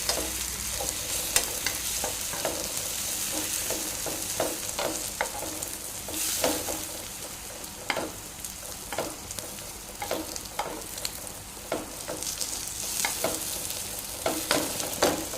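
Food sizzles in a pan after being flipped, with a constant frying hiss and frequent light scraping and tapping clicks at an uneven rhythm, close and without talk.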